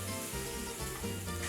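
Onions and celery sizzle in olive oil in a pan while Sicilian caponata is being cooked, producing a steady, close, crackling hiss that never stops.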